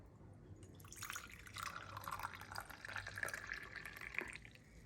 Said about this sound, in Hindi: अब इसको डाल लेते हैं कप में।